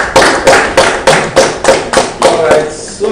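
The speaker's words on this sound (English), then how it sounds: "Okay, let's clap for Hassan." Clapping in a conference room for a presenter named Hassan, about ten evenly spaced loud claps or taps with sharp attacks and short decays, close and rhythmic, fading out near the end.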